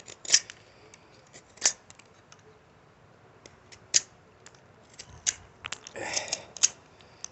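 A knife carves dry, weathered wood that has sat outside a long time, giving sparse, quiet, crisp cutting clicks and short scrapes at irregular intervals with no talking.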